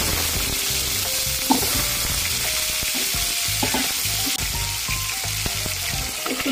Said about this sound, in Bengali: যেহেতু আমি মাশরুমটা আলু দিয়ে রান্না করব, তাই আমি একটু আলুটা ভেজে নিই